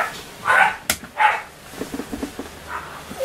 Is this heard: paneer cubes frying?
no